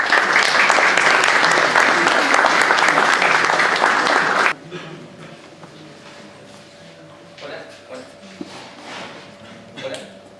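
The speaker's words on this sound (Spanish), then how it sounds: "Lo recibimos con un fuerte aplauso." Audience applause welcoming a speaker at a BIM technology talk in Córdoba: dense, loud clapping fills the first four and a half seconds, then cuts off abruptly to quiet room tone with a few faint shuffles.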